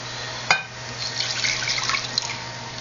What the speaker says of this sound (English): Now goes the rest from the bouillon in.